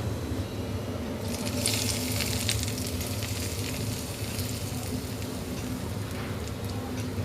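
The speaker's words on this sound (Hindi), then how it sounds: "तो इसको हम तड़का लगा देंगे फुल्कियों के ऊपर।" Cumin seeds hit hot oil for a tadka topping dahi phulki, giving a steady, close sizzling hiss that swells slightly after the first second and keeps crackling evenly throughout, with no talking.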